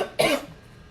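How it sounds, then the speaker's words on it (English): A single sharp cough from a person in a quiet room, loud and brief, followed by near silence. "I'm getting over a little cough."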